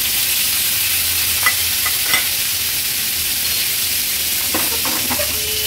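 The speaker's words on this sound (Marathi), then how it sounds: "ही जी भरलेली वांगी आहेत ना, ही तेलावर सोडूया" Stuffed brinjals frying in a small amount of oil, a steady loud sizzle with occasional pops and crackles throughout.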